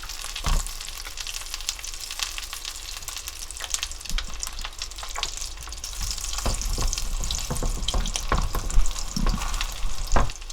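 Flatfish pan-frying in olive oil in a hot pan, a steady close sizzle with sharp crackles and pops, stirring and turning clatters breaking through now and then.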